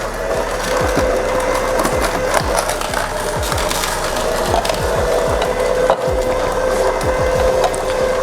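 A Moulinex ZU420E juice extractor runs steadily while crushing fruit, making a loud continuous grinding drone with repeated rasping, splintering crunches as pieces are squeezed.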